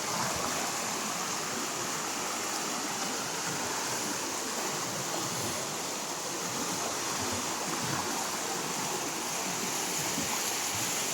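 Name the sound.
river flowing behind a flood-damaged house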